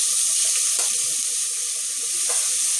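Vegetables sizzle steadily in a hot pan, a loud, continuous hiss with small crackles and pops running throughout, with no voices over it.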